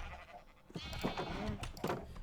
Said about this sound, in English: over here on this side, you have the sheep